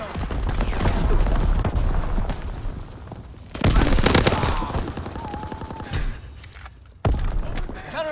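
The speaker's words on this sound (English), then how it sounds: "Enemy mortar fire incoming. Clear the target zone." Enemy mortar fire in Call of Duty WWII: loud booming blasts and rattling gunfire fill the scene, with a heavy burst near the middle and another sharp impact toward the end, dense battle noise throughout.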